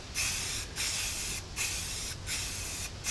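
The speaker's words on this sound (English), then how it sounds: "Now it's just a matter of giving it a coat of paint, and again, I'm only going to be painting the outside." Aerosol spray paint is applied to the outside of a repaired cooler in close, steady hissing bursts, about five of them separated by brief pauses.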